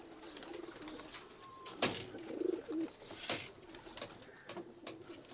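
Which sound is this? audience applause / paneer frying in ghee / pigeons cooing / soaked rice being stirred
pigeons cooing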